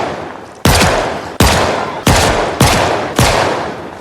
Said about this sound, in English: Can we actually shoot a zombie?